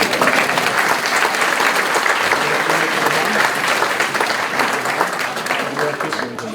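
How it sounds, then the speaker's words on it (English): Applause from an outdoor crowd at a rainy menorah lighting event, sustained clapping mixed with some cheering and crowd noise that stays strong throughout and eases slightly at the end. "Let's give a round of applause for that."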